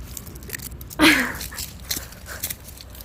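A single sharp crunch as a dog bites crunchy autumn leaves, followed by a few soft rustles and chewing sounds.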